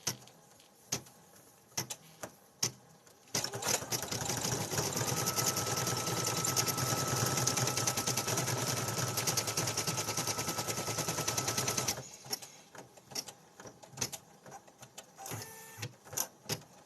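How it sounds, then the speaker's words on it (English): A Brother PE800 embroidery machine stitches felt pieces, its rapid needle hammering forming a loud, steady mechanical chatter that runs for several seconds before stopping, with scattered handling clicks before and after. "This machine is a Brother PE800."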